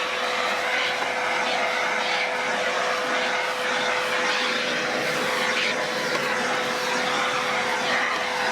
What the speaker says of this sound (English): I can just use the brush attachment on the vac and clean everything quickly and easily.